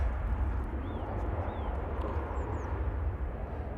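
An Airbus A380 taxis out at Manchester Airport, heard as a steady, low engine rumble and broad roar at a distance, with a few faint bird chirps above it and no talking.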